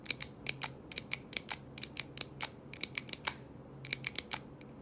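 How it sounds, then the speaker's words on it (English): Rapid sharp mechanical clicks in irregular bursts, close and fairly quiet, from the click mechanism of a Zebra X-701 or Tombow AirPress pen clicked over and over. "you can hear when I click it some evidence that it's not a standard pen"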